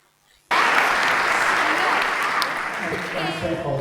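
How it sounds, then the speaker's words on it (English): Parents in a school concert audience applaud a boys' performance, a dense, loud burst of clapping that starts abruptly and holds steady, easing slightly toward the end. "Let's give them another round of applause"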